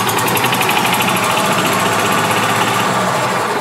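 A 2011 Club Car DS gas golf cart with a bad governor revs hard into its rev limiter. The small engine holds a loud, buzzing high-pitched whine with a rapid pulsing flutter, heard close and alone.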